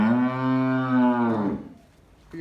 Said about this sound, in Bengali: গাভি গরুটি আমরা এই পাশ থেকে একটু দেখাবো